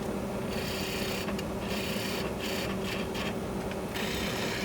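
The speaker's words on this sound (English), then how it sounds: "Using my favorite bowl gouge is going to make short work of it." A bowl gouge cuts Osage orange wood spinning on a lathe, a continuous loud rasping scrape with the motor's steady hum beneath, broken by short gaps as the tool lifts off the wood.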